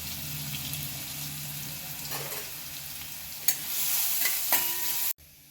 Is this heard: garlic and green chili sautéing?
yes